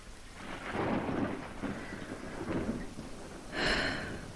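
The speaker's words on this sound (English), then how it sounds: "Just listen to the rain." Rain patters steadily while low rolls of thunder rumble in the distance, with a sharper burst of noise toward the end.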